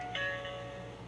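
An animatronic Halloween prop plays a two-tone ding-dong doorbell chime, steady sustained tones lasting about a second, fairly close with no talk over it.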